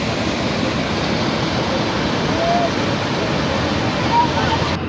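Steady broadband rush of river water pouring over a newly formed waterfall at Illambazar, loud and continuous throughout with no break, close by.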